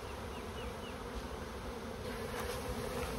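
Honeybees buzz steadily at a beehive entrance as foragers march back inside after the gates are opened, a dense continuous insect drone filling the whole stretch with no talk.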